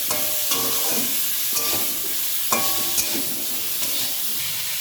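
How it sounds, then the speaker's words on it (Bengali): Cauliflower and beans stir-fry with spices in a pan, a continuous close sizzle broken by several sharp clinks and scrapes of a spatula against the pan. "ফুলকপি আর শিমের সাথে সব মশলাটা খুব ভালো করে একটু নাড়িয়ে চাড়িয়ে নিচ্ছি।"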